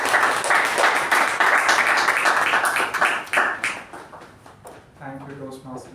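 An audience at a Toastmasters meeting applauds to welcome the Toastmaster, with steady clapping that fades out before a voice begins speaking near the end.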